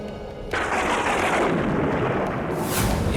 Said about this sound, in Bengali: এমন জোরে বিদ্যুৎ চমকাচ্ছে কেন